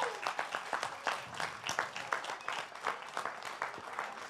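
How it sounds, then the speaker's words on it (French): An audience applauds during a live Occitan-language talk show performance in Toulouse, a moderate burst of quick, dense clapping at middle distance that carries on evenly for several seconds. "Une acclamation."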